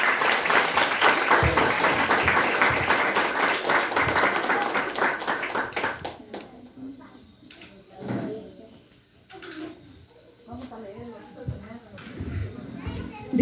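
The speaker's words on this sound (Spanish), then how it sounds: "Les pedimos, hermanos, que siempre les regalemos un fuerte aplauso," A church congregation applauds a graduate at a discipleship diploma ceremony: a loud, dense burst of clapping for about six seconds, then it fades into quieter murmuring voices and scattered movement.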